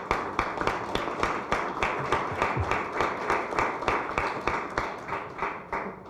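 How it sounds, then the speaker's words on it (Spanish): An audience at a book presentation in a law faculty claps to welcome a speaker, a steady, evenly paced run of loud claps lasting several seconds with no voices over it. "lo recibimos con un cálido aplauso"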